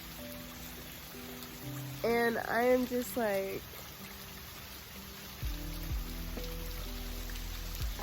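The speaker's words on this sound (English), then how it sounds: "magnificent waterfall." Steady rushing wash of a magnificent waterfall filling the outdoors, constant and moderately loud, while someone speaks briefly over it and some music tones drift in.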